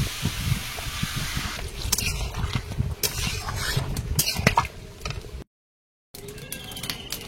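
Water is poured into a hot cooking pan of pond fish and garden pumpkin curry, bubbling and pattering loudly with scattered sizzles before a brief gap.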